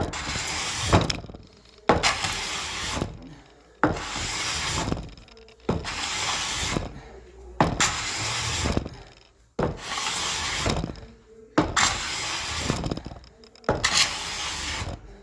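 An $8 hand scraper rasps glue off a wooden joint in eight firm, even strokes about two seconds apart, each one a loud close scrape followed by a short pause.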